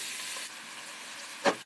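Onion and garlic fry in cooking oil with a steady, bright sizzle, close and continuous, and a brief louder scrape of stirring near the end.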